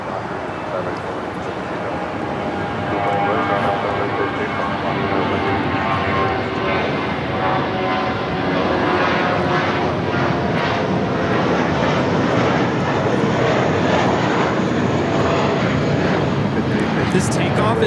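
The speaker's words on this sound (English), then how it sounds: "Here we have Aeromexico 782 coming in from Guadalajara." An Aeromexico airliner arriving from Guadalajara lands at Los Angeles airport, its engine roar building and holding loud and steady, with radio chatter and voices heard beneath it.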